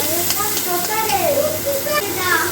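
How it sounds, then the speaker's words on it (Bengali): Chopped onion fries in hot oil as a steady, loud sizzle and hiss fills the pan, with soft stirring scrapes and faint high tones over the frying. "এবার পেঁয়াজটাকে হালকা করে একটু ভেজে নেব"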